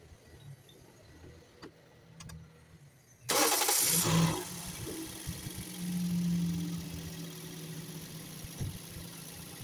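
A 2016 Toyota Vios engine cranks and fires up after a fuel filter replacement: a short burst of starter noise, then the engine catches and settles into a steady idle, close by, no talking.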